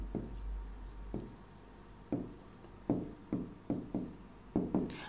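Marker or chalk writing on a board during an accounting lesson, a series of short scratchy strokes in an irregular rhythm, close and fairly soft.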